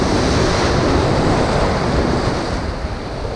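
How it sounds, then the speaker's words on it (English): Rough ocean waves crash and wash on a beach at high tide at South Strand, a loud, continuous roar of surf blended with wind noise on the microphone. "really rough ocean."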